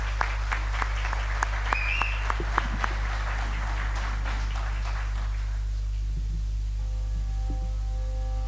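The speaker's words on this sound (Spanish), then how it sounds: "La recibimos con un fuerte y cariñoso aplauso." An audience claps for singer Andrea Menéndez Martínez at an Asturian song contest in Valle del Narcea, with sustained applause over a steady electrical hum that fades out midway, leaving only the hum and a faint tone.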